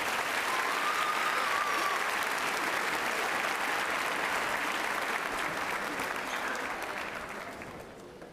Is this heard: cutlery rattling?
no